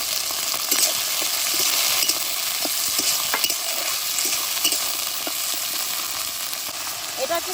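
Onions, capsicum and spices fry in a pan as soy sauce goes in: a steady, close sizzle with scattered stirring clicks and scrapes running throughout.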